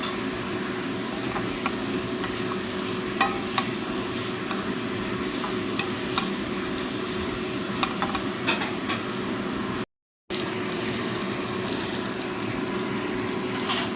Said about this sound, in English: Add to the scallions, stir fry for a minute, then serve.